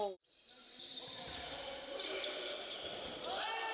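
During a Ukrainian Cup quarter-final match between SKA-ShVSM and Donbas, a ball bounces on the court floor. A sports commentator talks and the crowd hums in the arena.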